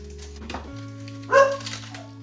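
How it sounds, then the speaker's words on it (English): A dog gives one short bark at a moderate distance, set against a low steady hum and faint background noise. "There's Lola barking."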